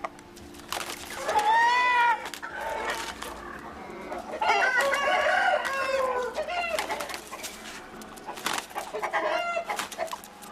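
Fighting roosters at a cockfighting gathering in Perambalur crow loudly and repeatedly in long, strained calls, with clucking and other fowl noise between them and faint background voices.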